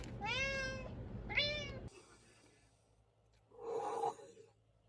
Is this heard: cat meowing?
yes